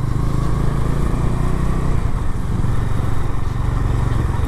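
A Bajaj Dominar 250 motorcycle is ridden in second gear, its engine a loud, steady, close rumble with constant road and wind noise and no break in sound.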